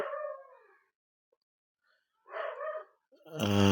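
A dog gives two short, wavering howls separated by a quiet pause, then a louder, fuller cry breaks in at the end.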